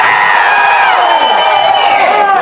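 A large crowd at a speech event in Madurai roars and cheers at full volume, with a sustained wall of noise and shrill whistles and whoops over it.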